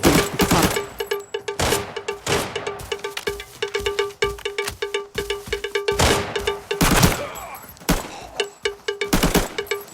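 Rapid bursts of automatic gunfire and single shots from the Arena Breakout shooter game, loud and close with repeated volleys and short pauses between them.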